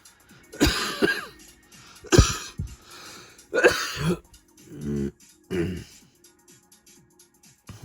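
A few harsh, loud coughs or throat-clearing bursts spaced a second or two apart, with quieter gravelly sounds in between and no clear speech.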